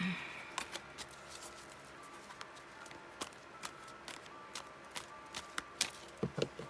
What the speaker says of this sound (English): taking my time shuffling today.